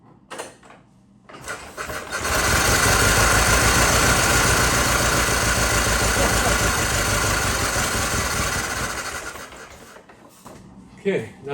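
A 1914 Ford Model T Speedster engine, long unused, is cranked and catches, then runs at a rough, loud, close idle for several seconds before dying away, with brief voices at the start and end.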